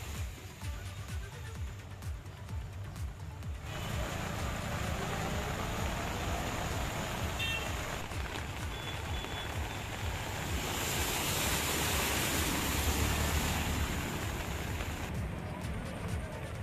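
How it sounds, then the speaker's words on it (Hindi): Heavy rain pours steadily in Haldwani, a dense, continuous hiss with a low rumble that swells louder after the first few seconds and stays constant throughout, with no voices. "दरअसल सुबह से हल्द्वानी में तेज बारिश जारी है"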